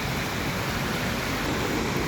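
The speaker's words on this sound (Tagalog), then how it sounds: "May ilog dito ang maliit." Small river flowing in a mountain area, a steady broadband rushing of water that stays constant and fairly close throughout, with no voices.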